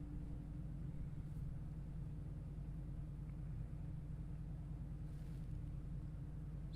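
A low, steady engine rumble from a car outside, faint and distant, continuing unbroken with no talk over it.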